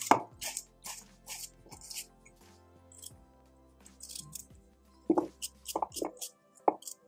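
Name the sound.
knife cutting peeled radish (mooli) into small pieces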